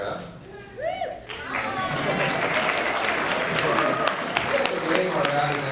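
A large crowd at a public talk in Edmonton breaks into loud, sustained applause with cheers and whistles after a brief spoken moment, clapping dense and steady to the end.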